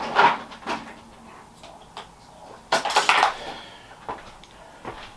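Metal spanners clink and clatter as they are handled during work on a salvaged skip bike, with a sharp burst of jangling near the middle and scattered lighter knocks around it, close up and with no talking.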